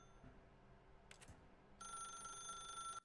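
In The Stanley Parable, an in-game telephone starts ringing partway through, a bright electronic trill that holds steadily to the end after a brief earlier chirp, over a quiet background.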